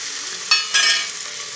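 Roasted peanuts and boiled peas sizzle in an oiled pan for masala rice, with a steady hiss broken by two louder scraping stirs close by.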